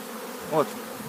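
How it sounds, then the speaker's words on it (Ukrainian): A single bee buzzes briefly close by at an open hive, a short humming drone rising over quiet background noise. "Всілякі бджола є. От з пилком бджола."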